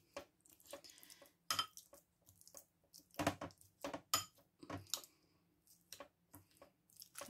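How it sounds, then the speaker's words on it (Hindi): Boiled cauliflower and potatoes are mashed into a paste for gobi paratha, giving irregular close clinks, taps and soft squishes of a utensil against a pot or bowl in quiet surroundings. "गोभी आलूओं को मसल कर उसका पेस्ट सब बना लेंगे"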